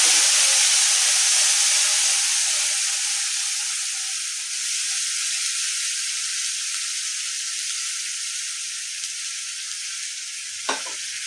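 Spice paste sizzles and spits steadily in hot oil for a koi fish curry, a loud, dense frying hiss that eases slightly over time, with a brief stir or clink near the end.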